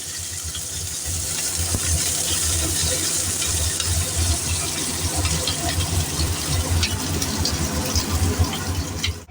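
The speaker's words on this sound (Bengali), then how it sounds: "পেঁয়াজটা একটু ভাজা ভাজা করে নেব।" Two medium onions fry in a pan over cumin seed tempering, giving a continuous crackling sizzle that stays fairly loud and even throughout, with no talking.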